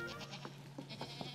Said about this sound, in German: Ziegen sind einfach ganz, ganz lebendige Tiere und vor allem liebevolle Tiere.